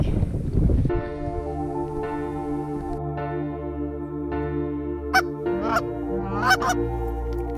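About 110 geese in Saskatchewan honk repeatedly, several calls overlapping near and at a distance, over a steady low background hum.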